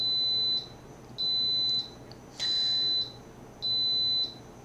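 An alarm beeps in four evenly spaced, sustained high-pitched tones with short pauses between, clear and fairly close.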